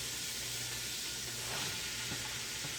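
Chopped vegetables hit hot grease and oil in a soup pot for bean and bacon soup, giving a steady, close, even sizzle with a faint low hum underneath and no voices.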